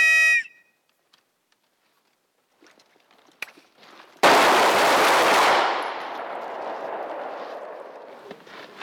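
Automatic pistol fire during a French army shooting drill. A short electronic tone and a few faint clicks come first, then a sudden, loud, sustained burst of close gunfire that fades into a lingering rumbling tail.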